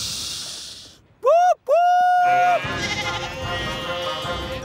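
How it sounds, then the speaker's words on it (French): Two loud, close, wavering bleats from young brown-and-white sheep in a Thomas & Friends cartoon farm scene, the second one long and drawn out, followed by a busy background of sound. "plein de moutons plus marrons que blancs"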